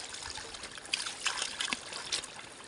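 Cold water at a bathing spot in Dolores, Porac trickles and splashes softly nearby, a quiet, steady babble with small bright drips.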